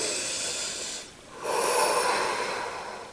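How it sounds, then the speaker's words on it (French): Slow, deep breathing close to the microphone: a long airy exhale, a brief pause, then another long breath, soft and hissing, with no talking. "Inspirez, expirez, lâchez prise au bout d'un moment"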